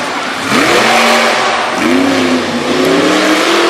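A monster truck, the XTP machine, revs its engine hard during a run at a Brookville, Pennsylvania event, with loud rising and falling engine tones that surge twice and carry steadily throughout.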